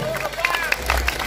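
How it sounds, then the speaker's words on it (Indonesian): Scattered applause rises from an audience at a village thanksgiving celebration in Kedung Ringin, Muncar, with irregular sharp claps over background noise. "tepuk tangan untuk Dusun Kedulingin"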